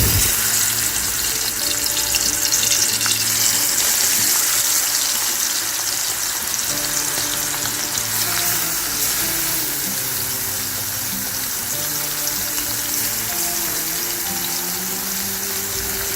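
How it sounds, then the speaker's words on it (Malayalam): Masala-coated prawns fry in hot coconut oil for a Kerala chemmeen roast, a steady close sizzling hiss that runs unbroken throughout, with faint tonal sounds underneath. "വെളിച്ചെണ്ണ ചൂടാകുമ്പോൾ ഈ മസാല പുരട്ടി വെച്ച ചെമ്മീൻ അതിലിട്ട് ഫ്രൈ ചെയ്തെടുക്കണം."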